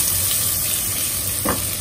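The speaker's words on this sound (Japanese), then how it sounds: "ベーコンをね、よく炒めて" Bacon sizzling hard in an oiled pan over full heat, a steady dense crackle filling the whole stretch with one brief louder spit near the end, no voices.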